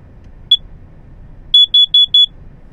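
Smoke alarm under test giving one sharp high-pitched electronic beep, then after a pause a quick run of four loud beeps in even rhythm, close by over a faint low room hum.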